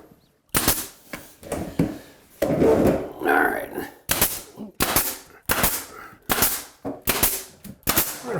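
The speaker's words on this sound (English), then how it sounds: "Fire a nail there." A nail gun drives nails into a closet wall during a DIY built-in closet makeover, firing a rapid series of sharp, close pops in an uneven rhythm, with a brief burst of other handling noise midway.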